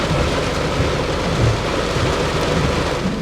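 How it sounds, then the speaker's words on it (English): Heavy rain pours steadily from a massive storm with a deep thunder rumble underneath, loud and continuous, with no voices. "because it's raining so hard"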